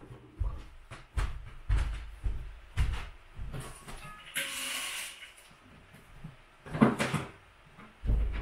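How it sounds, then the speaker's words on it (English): A door is pushed shut amid a series of thumps and creaks, with an airy rushing swell midway and a sharper bang near the end, fairly close and moderately loud. "let's close the door because of my loud voice"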